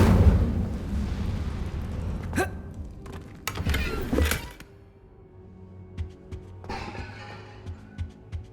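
A fire spell, Incendio, is cast in Hogwarts Legacy, giving a burst of whooshing flame with several sharp bursts and rumbling blasts, then quieter crackling and thuds over a low ambient drone.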